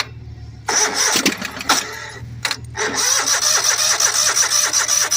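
A Simplicity tractor engine fed carb cleaner with the throttle held wide open cranks, catches after a few tries, then settles into a loud, steady running drone close by.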